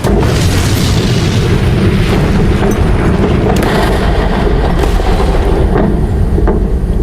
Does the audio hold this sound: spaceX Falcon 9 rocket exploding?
yes